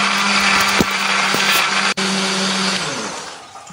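A kitchen blender whirs loudly and steadily, grinding shallots, garlic, candlenut and ginger with a little water into a paste, its motor pitch dipping briefly mid-run before tapering off, no talk.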